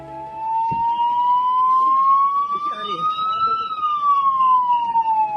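Ambulance siren wailing loud and near in a steady rising and falling tone, sustained throughout, with faint background voices underneath.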